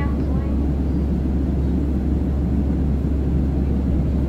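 Low continuous engine rumble of a plane flying in Minecraft, a steady droning roar held throughout at even loudness, with faint traces of a voice early on.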